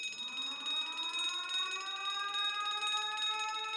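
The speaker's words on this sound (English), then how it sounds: "The alarm's going off." An alarm goes off on a ship in the video game The Great Ace Attorney Chronicles, a loud, continuous electronic wail whose tone sweeps upward and then holds steady, sounding alone without speech.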